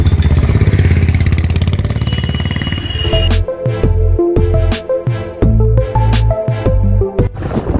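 Motorcycle engine while riding at night, loud and close: a rough steady drone at first, then repeated sharp revs and shifts in pitch as the bike accelerates, with music-like tonal layers over it.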